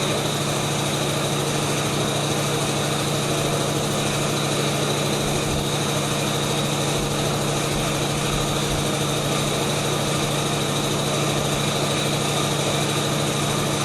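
A pneumatic training system with an actuator runs with a steady, loud mechanical hum and drone as its flow control valve is opened, unchanging throughout with no talk.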